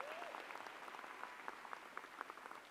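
Convocation audience at the University of Calgary applauding the mace bearer, a fairly faint, steady patter of many hands clapping at a distance across a large hall.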